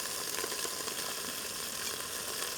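Stew meat browning in a 6-quart Instant Pot, a steady close sizzle and hiss of frying that holds evenly throughout with no voices.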